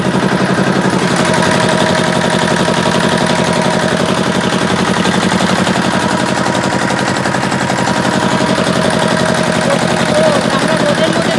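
A bhotbhoti motorboat engine on the Ganga river chugs in a rapid, steady mechanical rattle, loud and continuous throughout, with no pause or change in pace.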